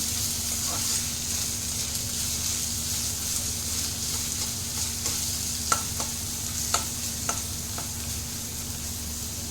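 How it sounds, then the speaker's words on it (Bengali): Onions sizzling steadily in hot oil in a pan while a tadka is prepared, a constant loud frying hiss with a few faint clicks of stirring and no voices. "এবার আমি পেঁয়াজগুলো দিয়ে দিলাম। পেঁয়াজগুলো আমি একটু লাল লাল করে ভেজে নেব।"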